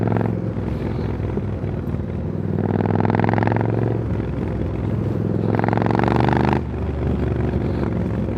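A Triumph Scrambler 900 motorcycle runs steadily while being ridden, its engine drone rising twice in pitch and loudness as it accelerates through the gears, then easing back.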